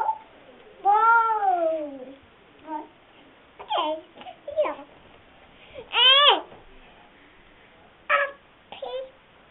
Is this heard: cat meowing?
yes